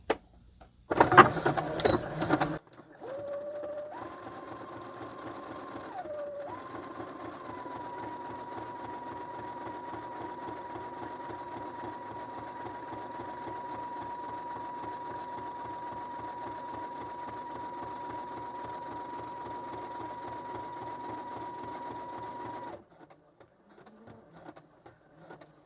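A sewing machine stitches a zigzag seam through altered paper with a steady, fast mechanical whir and tick that runs continuously for about twenty seconds. A short clatter comes first, and after the stitching stops a few soft handling noises remain.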